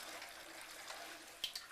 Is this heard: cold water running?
yes